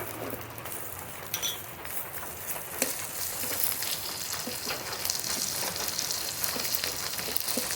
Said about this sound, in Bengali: আর একটু সর্ষের তেল দেবো রাঁধুনি ফোড়ন গোটা রসুন ফোড়ন